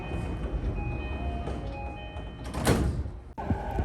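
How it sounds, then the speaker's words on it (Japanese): A JR Keiyo Line local train bound for Soga pulls into Shin-Kiba station after leaving the underground section, giving a steady rumbling roll with faint tonal hums, then a louder burst of brake hiss and a sharp door-like clunk near the end. "列車は地下区間を抜けて新木場駅に到着します"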